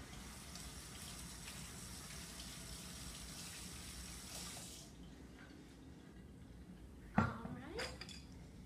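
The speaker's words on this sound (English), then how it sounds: "we're gonna grab our sweet potato and we're gonna make sure it's washed" Kitchen tap water runs while a sweet potato is washed, a steady hiss of flowing water that stops partway through, followed by a brief clunk of handling.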